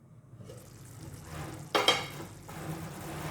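Chicken gravy bubbling in a pan, with soft, uneven sizzling and popping that swells into a sharper burst of bubbling near the middle, fairly quiet and close.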